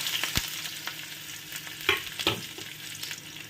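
Dry red chillies and garlic sizzling in hot oil as a tempering for dal, a crackling fry with a few sharp pops and stirring scrapes.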